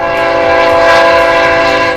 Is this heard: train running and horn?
yes